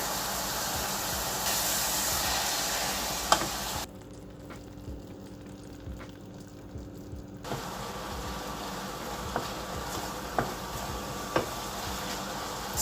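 Mushrooms and onions fry in a pan, giving off a steady sizzling hiss that drops away briefly in the middle and then returns, with a few light clicks and taps of a utensil.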